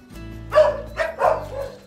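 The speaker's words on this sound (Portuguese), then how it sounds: "tem muitos cachorros aí" A dog barks about three times in quick succession, close and fairly loud, where many loose dogs roam; there is no speech.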